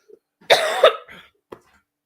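A woman coughs once, close and fairly loud, in a short harsh burst with a faint catch of breath before and a small follow-up sound after, otherwise quiet.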